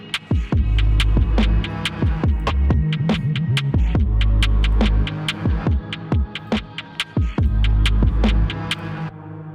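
A dark, spooky drill-bap beat: ominous sustained strings under booming sliding 808 bass and crisp hi-hats and snares, loud and continuous with a steady rhythmic pulse, no talking.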